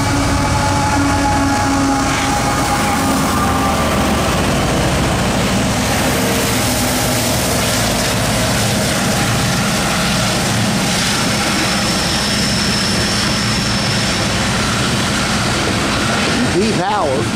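CSX freight train passing, led by an ES44/ET44 locomotive with a Union Pacific SD70ACe second, a loud sustained rumble and roar of diesel engines and rolling wagons, close by and continuous throughout.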